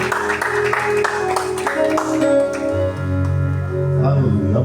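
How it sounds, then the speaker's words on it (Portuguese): Congregation applauding during a Pentecostal church service, a dense wash of clapping from many hands at moderate distance, mixed under sustained organ or keyboard chords and voices. "aplauda o nome do Senhor"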